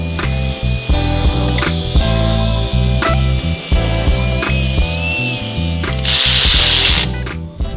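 Ratchet or power tool unbolting a part on a mini box truck, loud whirring bursts starting and stopping in quick succession, with a final harsher burst near the end.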